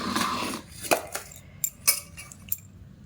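Brown rice served onto a plate, a few sparse clinks and scrapes of a spoon against dishware at close range, with a soft rustle at the start and quiet gaps between.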